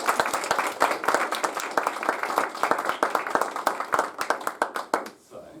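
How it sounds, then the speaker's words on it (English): An audience at a Year 9 semi-final event claps in sustained, dense applause with crisp individual hand claps, steady and fairly close, tapering off abruptly near the end. "So give them a round of applause, please."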